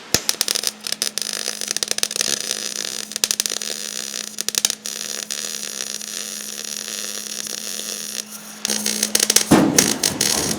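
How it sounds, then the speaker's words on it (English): A floor seam on a 1946 Pontiac is being welded, with irregular crackling, sputtering bursts over a steady electrical hum that grow louder and denser near the end. "I'm just gonna kind of work on getting this seam here welded in"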